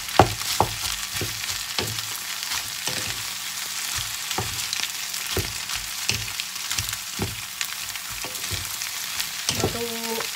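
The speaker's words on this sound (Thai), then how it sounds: "เสร็จแล้วใส่ผักกะหล่ำลงไปเลยค่ะ" Cabbage and konjac glass noodles are stir-fried quickly in a pan, making a steady sizzle broken by sharp repeated scraping and tossing strokes from a spatula, with no voices.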